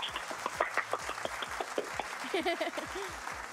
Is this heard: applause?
yes